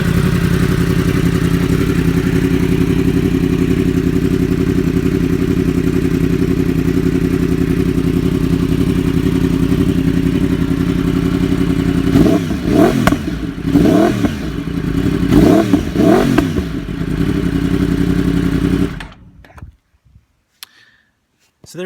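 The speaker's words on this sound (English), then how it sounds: "I might give it a start up and a little bit of a rev." A 2015 Yamaha R1 sport motorcycle idles loudly and steadily, then snaps through several sharp throttle revs before the engine cuts off into near silence.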